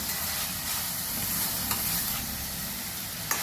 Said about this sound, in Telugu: కొంచెం పసుపు పొడి, కొద్దిగా సాల్ట్ వేగాలి.